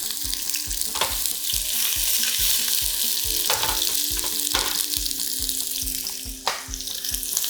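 Onions fry in olive oil in a pan, a close, steady sizzle broken by a regular rhythm of stirring strokes, with no talking.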